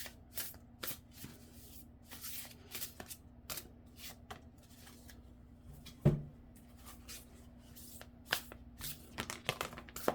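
Tarot cards shuffled by hand in a quiet room, a steady run of soft riffling and slapping card sounds with one sharper snap partway through, no talking.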